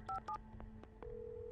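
Telephone keypad tones in the Alan Wake Remastered video game, a couple of quick beeps followed by a few softer single tones and a steady line tone, fairly quiet with no talking.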